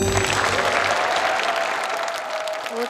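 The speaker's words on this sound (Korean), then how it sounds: "박수 한번 쳐주세요." An audience claps together for a student called forward at an EBS study-skills lecture event; the applause is dense, steady and moderately loud throughout, with no talking over it.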